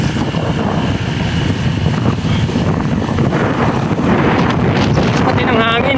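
Steady heavy rain and gusting wind roar continuously, buffeting the microphone, with no clear speech.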